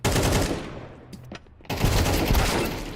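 Dense bursts of rapid gunfire in Counter-Strike 2, close and loud, cut out briefly in the middle before the shooting resumes.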